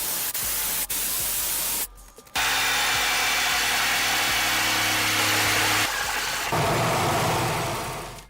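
A jigsaw cuts through a plywood mirror backer raised on bench cookies, giving a loud, steady buzzing rasp that stops briefly and then resumes for several seconds, with no talk.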